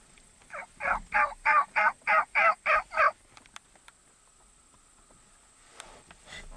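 A person imitates a hen turkey with a rapid series of about nine loud, even yelping calls, followed by quiet outdoor background.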